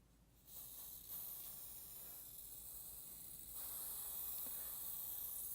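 Spray adhesive hisses from a can in bursts onto a card, a faint airy spray that grows a little louder partway through, with no speech.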